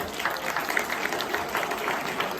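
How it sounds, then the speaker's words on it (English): An audience applauds at a spoken-word open mic event, steady dense clapping for about two seconds with a few shouts mixed in. "Yeah, clap it up, clap it up."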